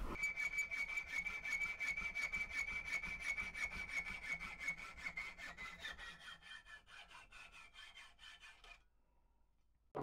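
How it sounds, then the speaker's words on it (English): A hacksaw cuts through metal stock for a homemade survival knife in fast, regular back-and-forth strokes, close and steady, with a ringing metallic whine. The strokes slow and fade before stopping near the end. "So I may try this with a hacksaw"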